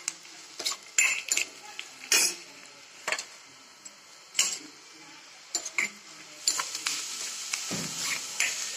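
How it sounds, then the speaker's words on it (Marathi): Garlic cloves crushed by hand in a kitchen, a string of sharp irregular knocks and taps, close and fairly crisp, separated by brief pauses with faint background rustle. "लसणाच्या पाकळ्या मी कुटून घेणार आहे आता आणि घालणार आहे ह्याच्यामध्ये"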